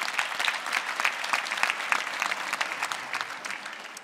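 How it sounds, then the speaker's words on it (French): Comedy show audience applause in a theatre, a moderate wash of clapping from the crowd, fairly quiet and steady, slowly thinning toward the end. "C'était l'applaudissement le plus triste que j'ai entendu depuis longtemps."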